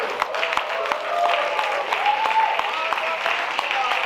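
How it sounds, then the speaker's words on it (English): A church gala audience applauds a Ministry Service Award, with steady, fairly distant clapping that runs throughout, marked by sharper individual claps and some background voices. "shall we all give a round of applause"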